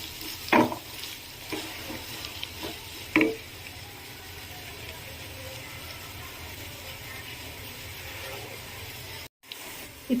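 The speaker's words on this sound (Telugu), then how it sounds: "ఆనియన్ కూడా యాడ్ చేసుకుందాము. ఇందులోనే పచ్చిమిర్చిని కూడా యాడ్ చేద్దాము. ఇవన్నీ మంచిగా వేగేంత వరకు కూడా వేయించుకోవాలి." Onions and green chilies fry in a pan for egg bhurji, giving a steady low sizzle broken by a few sharp scraping clicks of a spatula against the pan, close and without voices.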